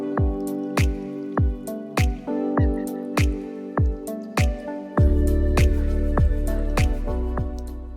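Canned pumpkin puree scooped out of the can while baking a pumpkin coffee cake: a close, steady series of wet, squishy plops and drips, with no voices.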